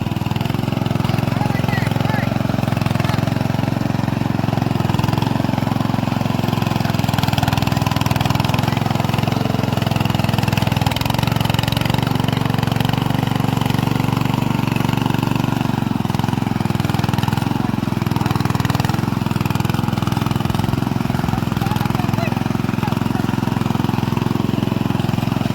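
A small engine runs at a steady idle beside a rice paddy during Konkan paddy transplanting, droning evenly and close throughout while people talk over it.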